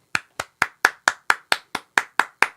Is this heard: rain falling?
no